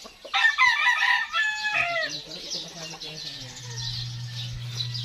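A rooster crows loudly amid clucking chickens, with bird chirps mixed in and a low steady hum underneath.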